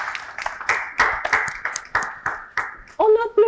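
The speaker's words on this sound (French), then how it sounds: "On applaudit encore." A talk show audience applauds a guest, with sparse, fairly distinct claps in a loose rhythm, moderately near, and a voice speaking over the end.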